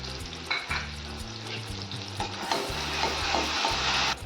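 Spices and ingredients sautéing in a pan for a dal tempering with turmeric and kokum syrup, a steady close sizzle with stirring scrapes, and a low hum running underneath throughout.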